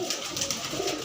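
Punjabi pigeons in a shop cage coo softly and steadily, several low rounded calls overlapping at close range with no talking.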